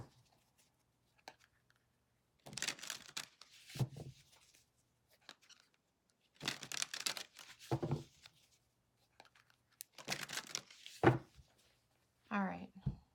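A deck of tarot cards is shuffled in quick riffling bursts of papery rustle and flicking, several separate rounds with quiet pauses between, close and fairly soft.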